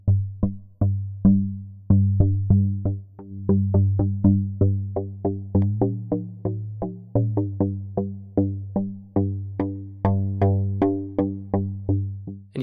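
A series of short noise bursts struck into the Audible Instruments Resonator string-modelling module in VCV Rack ring out as plucked, pitched string tones in a quick, uneven rhythm, each decaying fast, heard alone.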